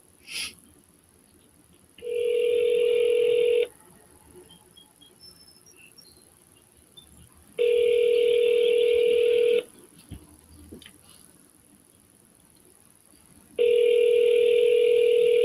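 A phone line rings out while calling a seller, three long electronic ring tones evenly spaced with quiet pauses between, following a brief click at the start.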